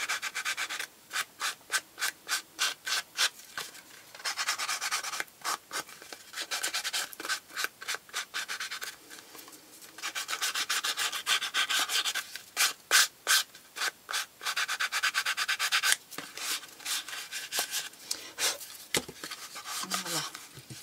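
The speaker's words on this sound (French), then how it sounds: "ce que je vais faire, c'est que je vais le finaliser avec la lime" A cardboard toilet paper roll's edge is worked with a file in quick, rhythmic rasping strokes that come in bursts with short pauses, close and fairly loud throughout.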